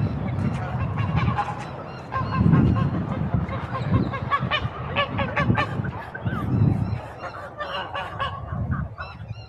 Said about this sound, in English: First, 2 geese fighting.